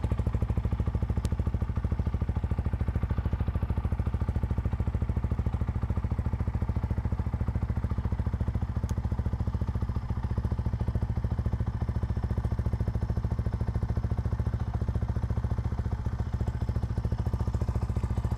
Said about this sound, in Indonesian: Jadi kali ini bakal gue hidupin mesinnya dan kalian dengarkan suaranya seperti apa cuy.